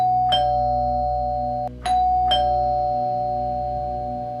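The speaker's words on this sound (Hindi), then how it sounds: "घंटी और ज्यादा बजने लगती है।" A doorbell rings three times, bright electronic chimes with a lingering hum between presses, over a quiet low background drone in a ghost story setting.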